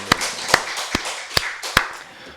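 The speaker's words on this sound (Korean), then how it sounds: "우리 박수로 하나님께 영광 드리겠습니다" A church congregation at a Wednesday worship service claps to glorify God. Five or six distinct, evenly spaced sharp claps ring out in a slow rhythm over a soft background wash, with no voices over them.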